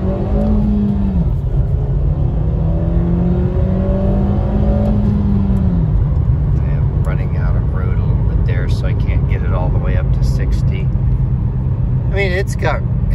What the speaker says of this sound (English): Let's do a little bit of an acceleration run here.